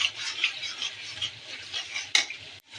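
A mustard spice paste is stir-fried in a pan as a base for katla fish, a hissing sizzle with a few scraping spoon strokes and a brief louder clatter near the end, close by.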